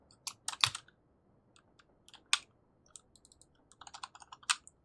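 Typing on a computer keyboard, with scattered quick keystrokes and short bursts of clicks, close and fairly quiet, separated by pauses.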